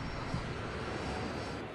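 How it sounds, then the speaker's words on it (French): Airplanes at John F. Kennedy International Airport make a continuous, even engine roar that holds steady without breaks, at a moderate distance and with no talk over it. "Plus de 1200 avions empruntent ces pistes chaque jour."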